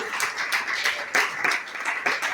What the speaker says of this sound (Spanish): Dale un aplauso fuerte al Señor, la gloria de Dios.